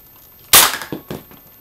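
A Nerf toy blaster, one that splits into two small handguns, fires two darts at once: a single sharp, loud pop followed by a few lighter plastic clicks and rattles, close up with no talking.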